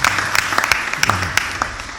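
Applause from the audience at a sermon on the virtue of humility breaks out after a call to honour a man's knowledge of the Bible, with brief claps rising over a steady hubbub for two seconds.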